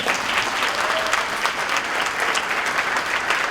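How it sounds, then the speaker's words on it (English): An audience at a speech event breaks into a steady round of applause, dense clapping from many hands sustained evenly at moderate distance with no voices on top. "we're gonna give you a big round of applause for being brave enough to do it"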